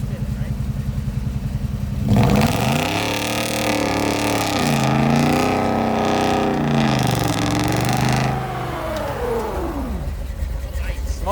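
A Duramax truck engine, not yet fully warmed up, idles roughly, then revs up and down in a long swell for several seconds before settling back to a rumbling idle, loud and close.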